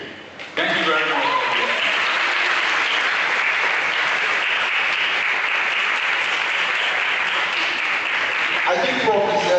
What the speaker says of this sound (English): I think Prof deserves a round of applause.